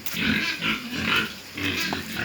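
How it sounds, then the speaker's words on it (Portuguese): Young pigs on a pig farm grunt continuously in bursts, close and fairly loud, with repeated rough pulses and no talk over them. "Porco novo, bonito."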